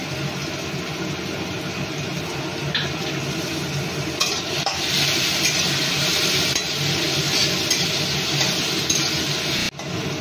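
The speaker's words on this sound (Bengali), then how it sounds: "এখানে কোনো সবজি কিন্তু খুব লাল লাল করে ভাজা হবে না, হালকা একটু ভেজে তুলে নেব।" Vegetables, including beans, sizzle lightly in a pan of oil for chicken fried rice, a steady close frying hiss broken by the occasional scrape and clink of a spatula stirring.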